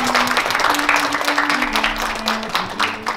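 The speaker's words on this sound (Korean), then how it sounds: "여러분의 힘찬 박수와 함께 이 한중일 청년 동양평화 회의를 시작해 보도록" An audience at the opening of a Korea-China-Japan youth peace conference claps vigorously. The applause is loud and dense, with a tonal hum or voice running underneath.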